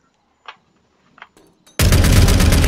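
Shotgun fire in the Zero Hour video game, during a residential house fight: a few faint clicks and thuds, then a sudden loud, sustained burst of blasts that fills the rest of the moment.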